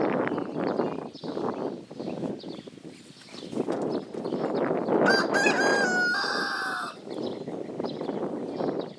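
A rooster crows loudly on a homestead while chickens cluck and scratch around nearby, a busy, close farmyard bustle with the crow rising clearly above the steady clucking.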